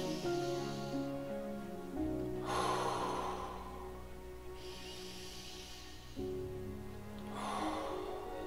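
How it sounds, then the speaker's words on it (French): Slow, deep breathing shown as a relaxation exercise: two long inhales and exhales in an unhurried cycle, airy and close, set against a steady held tonal drone in the background. "en respirant de manière plus lente, comme ceci"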